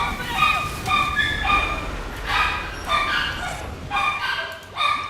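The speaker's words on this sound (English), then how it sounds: "Dog that's been quiet all day long starts barking when I stream" A dog barks repeatedly in short, fairly close yips and bow-wows, several bursts spaced through the stretch, with a whimpering edge and a continuous hum beneath.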